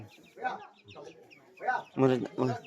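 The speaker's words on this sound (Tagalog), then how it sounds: "Daming mga manok din dito." Chickens cluck in a series of short, choppy bursts nearby, growing louder and busier toward the end.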